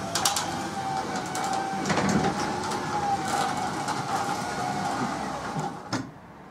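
Athena automatic gate motor opening the gate on its own, giving a steady whirring drone with a thin whine running through it, close and fairly loud, and a few clicks near the end.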